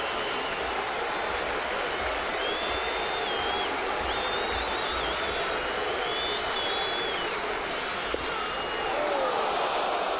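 A baseball stadium crowd at an Orioles–Yankees game builds a continuous, distant roar of cheering and whistling with two strikes on the batter, a broad steady wash of noise with occasional shrill whistles riding on top.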